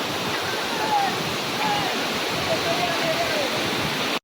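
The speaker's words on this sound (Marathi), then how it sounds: "दोन्ही साईडने पाणी येतं. इकडून पण आणि इकडून पण." The Palasdari waterfall near Karjat pours down on both sides, a loud, close, unbroken roar of rushing water that fills the whole scene with a few faint thin tones above it.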